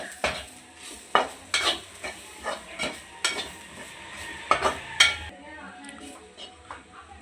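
A spatula scrapes and taps around a frying pan in uneven strokes, stirring spices for mushroom gravy over a faint sizzle, close up, with no speech.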